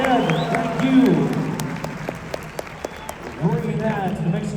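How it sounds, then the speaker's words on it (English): A crowd at a Mexican rodeo extravaganza applauds, its scattered claps and cheers spreading through the arena while an amplified announcer's voice talks at the beginning and end. "I think they deserve one more huge round of applause today for what they did"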